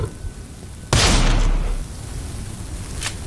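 A loud gunshot blast from the video game Blood West cracks out about a second in and rings off into a rumbling tail, with a fainter second shot near the end.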